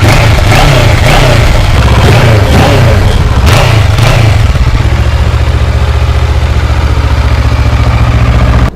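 A Kawasaki ER6 650 parallel-twin motorcycle engine runs close by and loud. It blips and revs unevenly for a few seconds, then settles into a steady, throbbing idle, with no talking.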